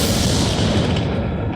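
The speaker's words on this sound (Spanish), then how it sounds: "Esperaba así proteger sus oídos de los cañonazos" Cannon fire in early nineteenth-century Vienna, heard as a dense, continuous rumbling barrage that stays heavy and loud throughout, with no speech over it.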